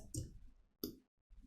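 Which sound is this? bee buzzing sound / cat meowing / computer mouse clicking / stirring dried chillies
computer mouse clicking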